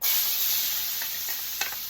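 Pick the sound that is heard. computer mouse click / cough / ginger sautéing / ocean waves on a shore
ginger sautéing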